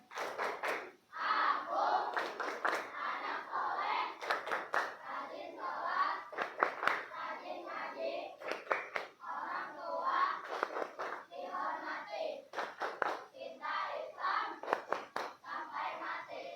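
A class of children performs the 'tepuk anak soleh' clapping chant in an Indonesian classroom, group voices chanting in rhythm with repeated clusters of sharp hand claps throughout.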